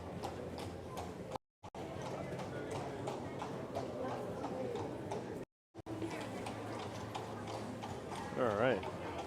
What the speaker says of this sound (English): I love the horses that pass through here.